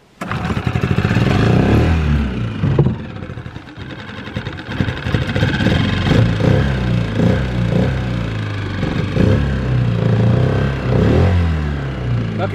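A boat outboard motor, primed with the fuel bulb, starts without a choke and keeps running: a loud, steady, close engine drone with a rough, throbbing idle that holds for about twelve seconds.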